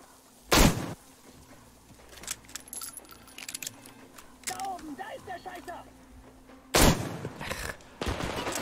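Gunfire in the Metro Exodus video game, with two sharp loud shots about six seconds apart and fainter rattling and clinks between them, amid game ambience.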